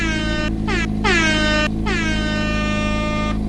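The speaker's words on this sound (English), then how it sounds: "I need to insert some, like, air horns in right here." A loud air horn blares in several rapid back-to-back blasts, each a brassy, sustained honk that cuts off sharply.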